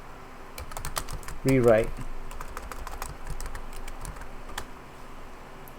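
Keys tapped on a computer keyboard while entering a server command, a brief run of light clicks with a short spoken word in the middle.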